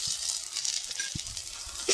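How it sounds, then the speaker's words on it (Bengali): Ginger garlic paste frying with onion and tomato in a pan, a soft sizzle with occasional stirring knocks, no speech. "এবার আদা রসুনটা ভালো করে কষিয়ে নেব পেঁয়াজ টমেটোর সাথে।"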